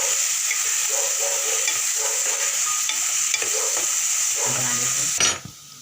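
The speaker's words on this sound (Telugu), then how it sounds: "ఉల్లిపాయలు వేగిపోయినాయి" Chopped onions and green chillies fry in a pan, a steady loud sizzle with occasional stirring scrapes that stops abruptly near the end.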